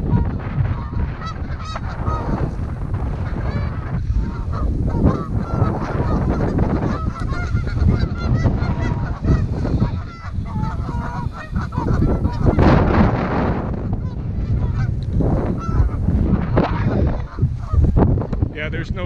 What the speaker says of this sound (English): you can see the geese all around here